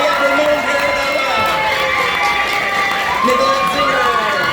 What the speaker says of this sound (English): let's give a warm round of applause for all the rest of our panelists